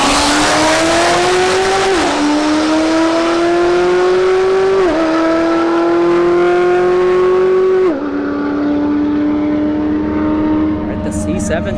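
C7 Corvette and BMW M5 launching in a street drag race at a motorsports park, engines roaring loud and close as they climb through several gear shifts with rising pitch, then fading as they pull away down the strip.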